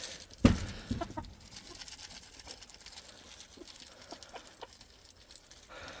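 Chickens cluck faintly in the background, soft scattered clucks over quiet outdoor ambience, with one sharp knock near the start.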